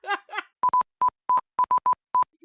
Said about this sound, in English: It's Morse code.